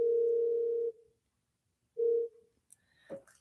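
A telephone line gives a steady electronic tone for about a second, falls silent, sounds a second short burst, then ends with a faint click; quiet and close.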